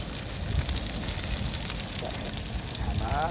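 Garlic fries in hot ghee with onion, a dense close crackling sizzle that runs steadily under faint background noise.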